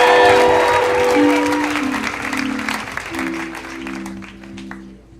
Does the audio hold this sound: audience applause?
yes